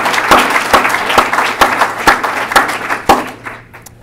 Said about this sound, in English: I want to give a big round of applause to Michael Watson